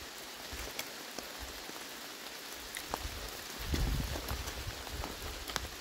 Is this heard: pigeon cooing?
no